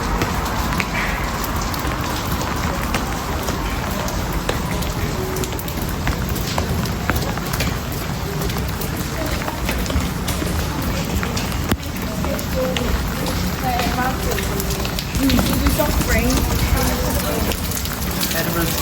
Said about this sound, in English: Talk about rainy and moody today.